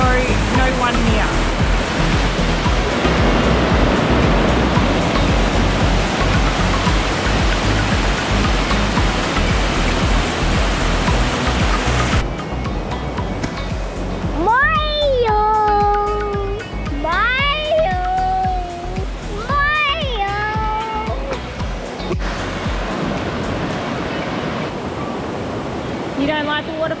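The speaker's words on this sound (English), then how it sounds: "This is the Snobs Creek waterfall" Snobs Creek waterfall near Lake Eildon in Victoria rushing with a steady, loud broadband roar. The roar dominates the first half, then continues under a child's high-pitched voice and some talking.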